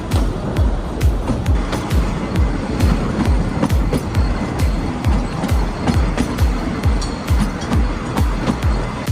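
India's oldest narrow gauge passenger train between Dhaulpur and Tantpur rolls along its tracks, a loud, steady clickety-clack of wheels over rail joints in a quick repeating rhythm, heard close from onboard.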